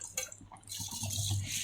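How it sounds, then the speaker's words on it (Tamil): Soaked rice tipped into a pot of boiling water for mushroom dum biryani gives a short watery splash and a bubbling pour, then a brief liquid rush that fades. "நம்ம வந்து அரிசி ஆட் பண்ணிக்கலாம்"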